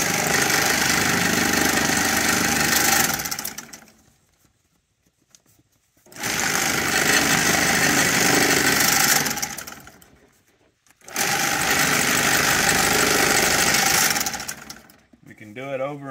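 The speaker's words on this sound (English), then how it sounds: "now we're going to run this bag through the sewing head." A Bemis sewing head on a bag sewing line stitches bags in three loud, steady, rattling machine runs of about three to four seconds each, with brief near-silent pauses between runs.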